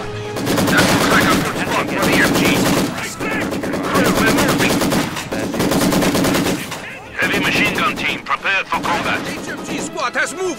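Heavy machine gun fire in a video game, long loud bursts of rapid pulsing shots that stop briefly and resume several times, with battlefield noise and occasional voices underneath.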